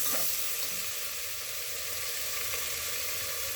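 Ginger-garlic paste sizzles and fries steadily in a pan while being stirred, a dense continuous hiss with faint scraping, heard close and alone without talk.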